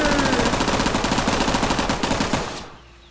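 Rapid automatic gunfire aimed at a tank in the Teardown video game, a loud continuous burst of closely spaced shots that keeps up for over two seconds, then cuts off into quiet.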